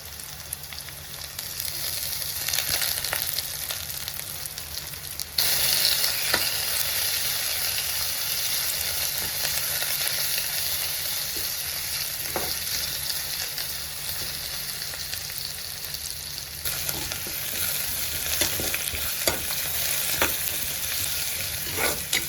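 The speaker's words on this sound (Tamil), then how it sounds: "அப்புறமா கருவேப்பிலை இதையும் சேர்த்துட்டு நல்லா இந்த மாதிரி கிண்டி விட்டுடலாம்." Green chilies, rampe and curry leaves stir-fry in hot oil for a Sri Lankan chicken curry, giving a steady, close sizzle throughout with repeated spoon scrapes and clacks against the pan. No one speaks.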